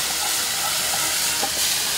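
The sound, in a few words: ladling fish brine liquid and pouring it back into the pot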